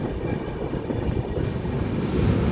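Durgiana Express train pulling out of Beas Junction, heard from onboard as a steady loud rumble with dense rattling and clatter from the moving carriages, and no talking.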